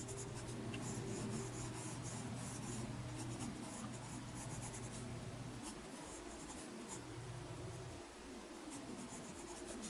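Graphite pencil sketching figure forms in sharp perspective on paper, a steady close-up scratch of strokes running continuously with no voices.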